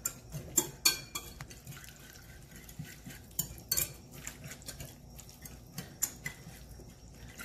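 Raw chicken is tossed with olive oil in a bowl, producing a string of close, sharp utensil clinks and taps against the bowl with soft wet squelches between them, with no voices.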